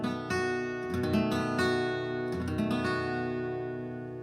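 Acoustic guitar chord fretted with four fingers, strummed a few times with bright ringing strings that decay slowly toward the end, played alone at moderate volume.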